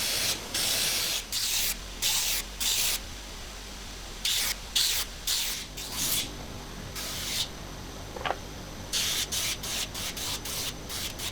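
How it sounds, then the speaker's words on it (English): Belt sander rounding over the ends of wooden ship's-wheel spokes, with the platen flipped so the belt has give: repeated short bursts of abrasive hissing as each piece is pressed on, separated by quieter gaps. "I'll keep it simple and use the belt sander."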